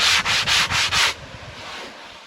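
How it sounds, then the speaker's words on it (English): Five rhythmic rasping strokes of an old hand plane shaving wood, close and loud, then quiet. "Hand planer."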